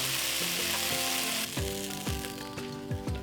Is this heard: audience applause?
no